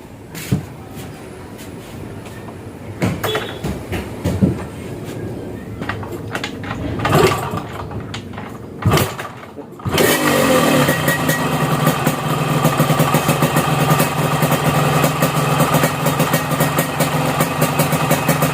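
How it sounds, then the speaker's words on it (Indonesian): A motorcycle engine with a carburetor being tuned sputters and clicks during starting attempts, then catches and runs in a loud, steady close-up idle. "kita langsung coba tes hidupkan motornya, lalu kita setel ya guys ya"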